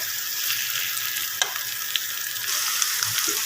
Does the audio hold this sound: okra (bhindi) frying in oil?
yes